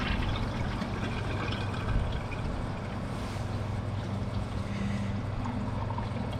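A 2005 Kohler Highline Pressure Lite toilet flushing eight paper towels, a steady rushing, roaring whoosh of water held at an even level for several seconds.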